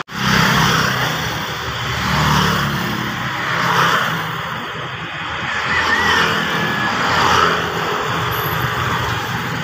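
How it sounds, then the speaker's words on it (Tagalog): Steady stream of cars and rented tourist motorcycles passing one after another along a road, engines swelling and fading in repeated waves, fairly loud and continuous with no talk. "Dati hindi ganito karaming sasakyan dumadaan"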